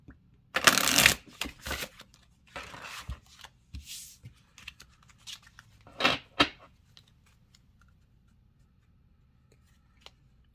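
A deck of oracle cards is shuffled by hand in several bursts of crisp riffling and flapping, close up, separated by quiet pauses and fading to light taps.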